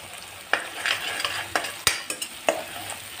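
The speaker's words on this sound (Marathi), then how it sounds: "हे बघा आता आपला मसाला पण हा चांगला तेलात परतवला गेला आहे" Green masala fries in oil in a pan while a spoon stirs it, soft continuous sizzle broken by sharp metallic scrapes and taps against the pan.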